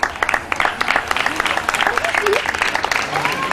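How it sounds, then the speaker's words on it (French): Roadside spectators at the Roquebrune Cap Martin triathlon applaud, a continuous crackle of clapping hands spread through the crowd, with people talking nearby over it. "ils applaudissent?"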